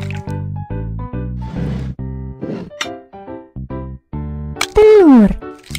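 Whipped cream squirts into pumpkin pie filling in a Baby Bus cooking video game, with soft squishy liquid sounds mixed among bright, tonal game jingles and a sliding effect near the end.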